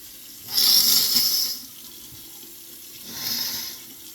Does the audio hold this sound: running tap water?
yes